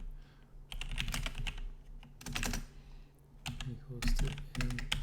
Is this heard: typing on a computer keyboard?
yes